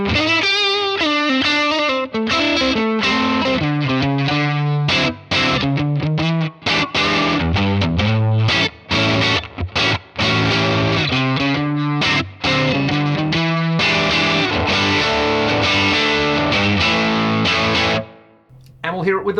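Electric guitar played through the Kings amp model on a pedal platform, a driven, crunchy tone with choppy chords and short muted stops between phrases, loud and close, with no talking.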